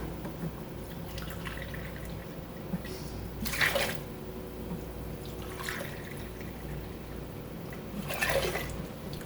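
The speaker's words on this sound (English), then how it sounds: "I'm going to need 3 cups of my apple cider vinegar" Apple cider vinegar poured into a container for cowboy candy, a steady liquid trickle with two louder splashy surges, close and moderately quiet, no talking.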